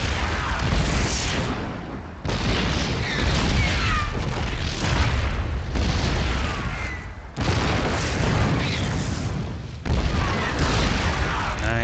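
Heavy booming siege tank artillery blasts in StarCraft II fire in repeated bursts, each loud concussive shot followed by rumbling debris, with battle noise continuing between volleys.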